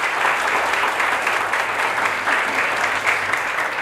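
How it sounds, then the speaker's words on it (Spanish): Loud, sustained applause from a large crowd at a speech honoring families, a thick, even roar of many hands clapping that holds at full strength throughout. "Aplauso para todas estas familias"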